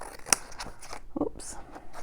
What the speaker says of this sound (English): Let's just cut that bit of extra off there.